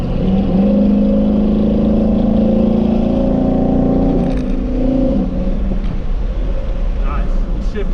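A Chevy delivery truck engine revs steadily and loudly, with its drone dropping in pitch partway through as the transmission downshifts, and the sound continues at a lower, rougher note.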